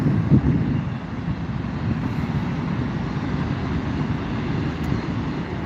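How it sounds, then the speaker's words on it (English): A 17-year-old Southwest Boeing 737-700 jet airliner in Heart livery roars steadily at an airport, a loud continuous broadband engine rumble holding across the whole stretch with no talk. "we have a Southwest 737-700 in the Heart livery."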